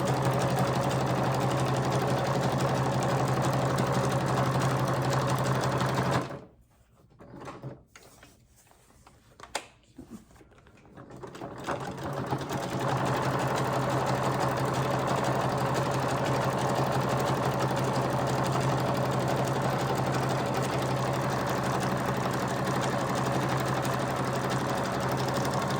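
A sewing machine stitches a patchwork cover for a junk journal with a steady, close mechanical whir. It stops for several seconds midway, then resumes its even run.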